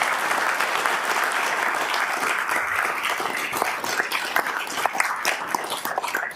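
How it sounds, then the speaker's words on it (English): Sustained audience applause for a teen choir at a swearing-in ceremony, dense, even clapping holding steady throughout before starting to thin slightly near the end. "Can we give them another round of applause?"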